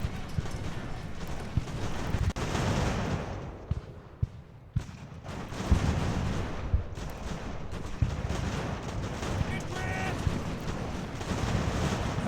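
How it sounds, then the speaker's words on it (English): Artillery batteries fire in the Ultimate General: American Revolution battle game, a steady wash of cannon and musket fire with sharp reports, continuous throughout. "Now I'll tell these guns to shoot."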